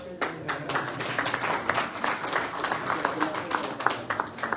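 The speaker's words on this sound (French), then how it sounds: "Applaudissez encore pour cette belle là" An audience at a press conference with Hollywood stars applauds in a dense, steady patter of many hands, with sharper individual claps standing out and voices murmuring underneath.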